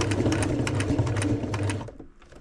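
A sewing machine running a strengthening stitch along a tent seam, a fast, steady, close mechanical whirr that continues for about two seconds before stopping abruptly.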